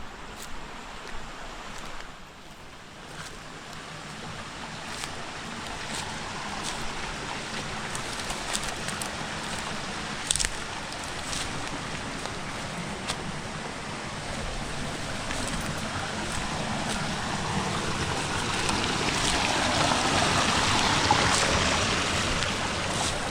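A river flows past the bank in a forest, a steady broadband rush that grows gradually louder toward the end, with occasional faint clicks and rustles.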